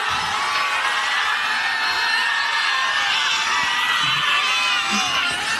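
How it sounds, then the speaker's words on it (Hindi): Huge rally crowd in Bihar cheering for Priyanka Gandhi, a dense, loud, continuous roar of shouts and whoops with no break. "आपका समर्थन, इतनी भीड़ देख के बहुत खुशी हुई"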